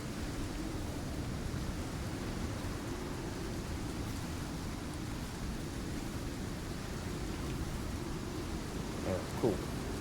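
The red storm in the survival video game Icarus, a steady roar of heavy rain and low rumbling wind filling the whole stretch, with a brief faint crackle near the end.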